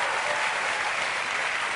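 Studio audience applauding on a New York late-night talk show, a dense steady wash of clapping hands holding at the same loudness throughout with no voices over it.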